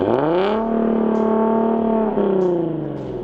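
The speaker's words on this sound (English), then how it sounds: "the valves are open now. Alright, we'll give it a couple revs." A Nissan 370Z Nismo with a Valvetronic exhaust, valves open, revs up and holds a loud, steady harmonic drone, dips briefly, then rises again, close and throaty.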